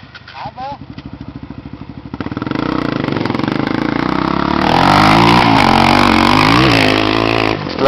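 An engine pulls away in second gear on a track, starting from a lumpy idle, then the revs climb into a loud sustained drone that holds near and steady, with voices talking over it.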